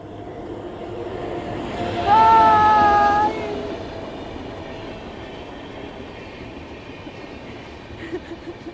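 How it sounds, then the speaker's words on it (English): A train rumbles past on Munroturuttu island in Kerala over steady background noise, with a sustained horn-like tone sounding for about a second midway before the rumble continues. "And there's a train coming."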